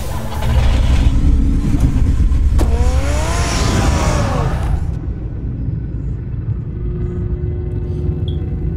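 The Batmobile engine roars in Batman: The Telltale Series video game, a loud rumbling rev that swells and then drops away to a low hum.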